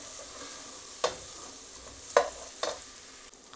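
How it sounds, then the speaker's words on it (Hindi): Potatoes and spinach fry with tomatoes and salt in a pan, a steady gentle sizzle broken by three distinct scraping stir strokes, close and clear. "इसको जस्ट ऐसे ही 2 मिनट्स के लिए हम अच्छे से फ्राई करेंगे टमेटोज के साथ।"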